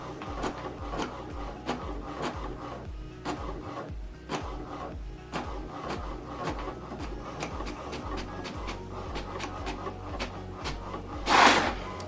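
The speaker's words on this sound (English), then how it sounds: "Now this document is going to print out." An HP printer printing a document from a phone makes a steady mechanical chugging with a regular low rhythmic pulse and repeated feed clicks throughout, ending in a brief louder whir as the page is pushed out.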